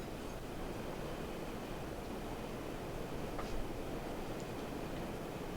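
A train runs along the Northeast Corridor in the Trainz railway simulator, a steady, even rumble with a brief louder swell partway through.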